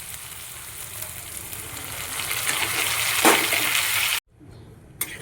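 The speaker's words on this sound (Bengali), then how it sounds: "এখন দিয়ে দেবো এই যে ডালটা আমি যেটা মাছকলাই সিদ্ধ করে রেখেছি সেটা দিয়ে দেবো" Boiled mashkalai lentils tipped into ginger-garlic paste frying in a pan: a steady, loud sizzle swells with a sharp splashing burst, then cuts abruptly to near silence with one brief clatter.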